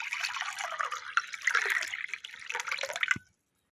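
Drinking water is poured into a container in a continuous splashing trickle lasting about three seconds, close and moderately quiet, ending with a soft knock.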